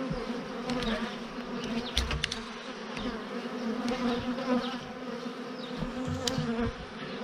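Honey bees buzz steadily around an opened hive while frames of brood and pollen-laden bees are inspected, a dense close drone swelling and easing throughout with no talk.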